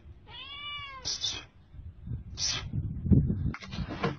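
A cat meows from beneath a parked car, one clear drawn-out meow followed by short, noisier cries, with some faint background sound between them.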